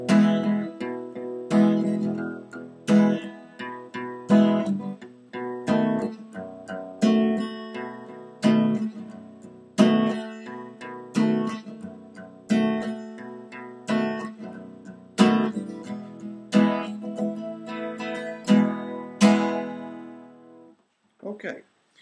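An acoustic guitar strums the chords of a song with picked bass notes, a rhythmic pattern of ringing strokes and plucked low notes lasting about twenty seconds, close and clear with no voice.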